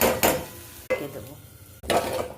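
Spiced curry with pepper and cumin powder stirred in an oily pan, giving a soft sizzle with a few scraping strokes and clicks of the utensil, close up.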